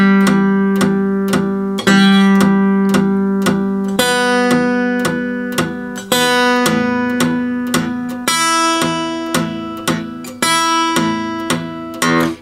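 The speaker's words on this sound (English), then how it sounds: "So to do a whole note against the bass, it would sound like this." Fingerstyle guitar holds a sustained whole-note melody on top while the thumb picks a steady bass line on the sixth, fifth and fourth strings. Even, evenly spaced plucks ring out loud and clear, with the chord shape changing every couple of seconds and no talking.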